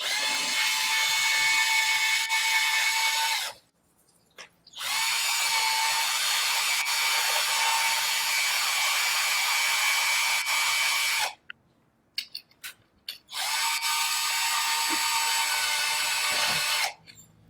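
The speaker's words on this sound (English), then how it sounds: "Now I'll just drill a few holes through here." A power drill with a carbide bit whines loudly as it bores into floor tile grout in three long bursts, with short pauses and small clicks between them.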